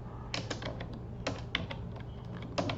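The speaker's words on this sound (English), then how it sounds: "we'll type" Quick bursts of keystrokes tap on a computer keyboard, close and fairly quiet, in short irregular clusters with brief pauses between them.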